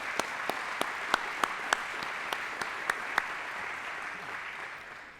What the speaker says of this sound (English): give them a round of applause if you don't mind